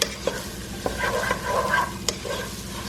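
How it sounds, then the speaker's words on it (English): Kale being stirred in a frying pan, with a utensil scraping and occasional sharp knocks against the pan over a soft background sizzle, close and steady with no talking. "I'm just going to mix everything in here really well until the kale is soft"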